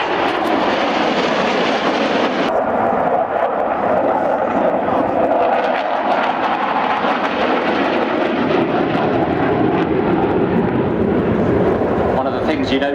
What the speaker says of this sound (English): He first demonstrated the MiG-29 high-speed pass now from the right, one aircraft rolling upside down